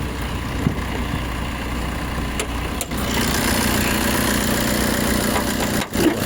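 A diesel car engine idles with a steady, close mechanical rumble that holds evenly throughout, with no talk over it.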